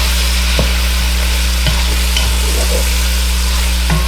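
Peppers and onions sauté in a pan for red beans and rice, giving a steady, close frying hiss with occasional scrapes and clicks of stirring and no talk.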